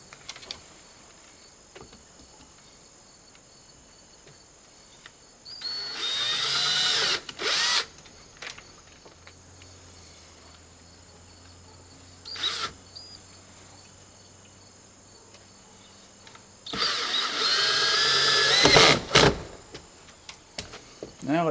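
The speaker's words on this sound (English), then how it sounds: "go ahead and drill some pilot holes and then screw that down" A power drill bores pilot holes for mounting a Larson storm door, two short whirring bursts a few seconds each with brief pauses, close by, with faint insect chirping in the quiet between.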